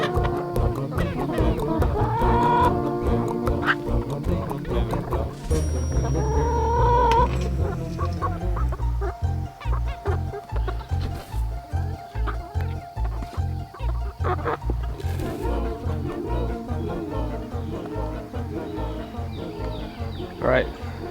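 Pastured meat chickens cluck and call from close by while a person talks gently over them, with a steady, rhythmic low thumping and scattered bird noises through the whole stretch.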